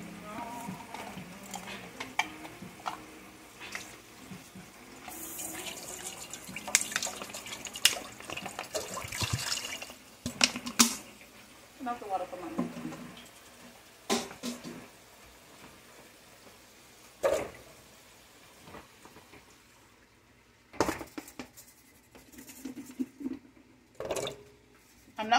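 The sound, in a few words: water in a pan for boiling vegetables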